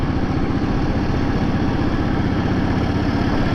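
A Royal Enfield Meteor motorcycle engine cruises at low speed in third gear, a loud, steady, even thump with no change in pace.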